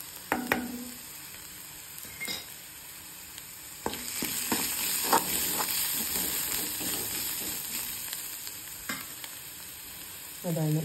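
Tempering spices frying in hot oil for chitranna, a steady close sizzle and crackle with a few sharp spatula scrapes and taps against the pan, ending on a brief louder clatter.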